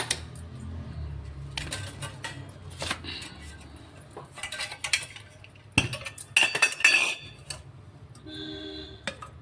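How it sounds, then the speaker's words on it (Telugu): A small kadai set down on a stovetop, with scattered metallic clinks, taps and knocks of cookware close by, some brief sharp contacts spread over several seconds. "చిన్న కడాయి పెట్టానండి స్టవ్ పైన"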